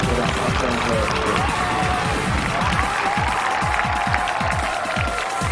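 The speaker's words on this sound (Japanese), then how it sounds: "すごい歓声です。" A large crowd cheering and applauding at a Vampire Savior tournament quarterfinal in Japan, a loud sustained roar with dense clapping and shouts filling the whole stretch.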